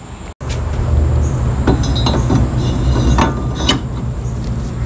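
Metal car brake rotor on a Toyota Camry being handled and fitted onto the wheel hub during a wheel bearing replacement, giving scattered light clinks and knocks over a steady background hum.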